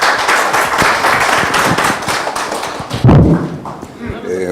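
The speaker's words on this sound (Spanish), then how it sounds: "Recibamos con un fuerte aplauso al ingeniero." Audience applause welcoming an engineer to speak at an evening talk. Dense clapping fills the room steadily with a few thumps, then thins out near the end as a voice comes in.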